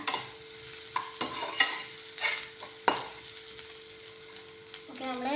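Onions are stirred and fried on a low flame while making chana masala: soft, intermittent scraping strokes over a quiet sizzle, with brief speech at the end.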